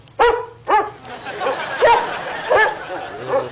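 A dog gives several short barks and yips spaced over a few seconds, mixed with a voice speaking nearby.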